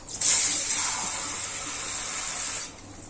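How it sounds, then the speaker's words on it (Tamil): Water from a tap pours steadily into a cooking pot while a tamarind and drumstick dish is cooked for Mattu Pongal, a bright splashing stream starting abruptly and running for over two seconds before cutting off. "தண்ணி பத்தல பாருங்க, தண்ணி கொஞ்சம் ஊத்திக்கலாம்"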